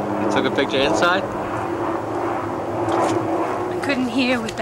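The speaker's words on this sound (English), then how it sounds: "I couldn't hear with the helicopter." A helicopter passes overhead, its steady low drone running continuously beneath people talking nearby.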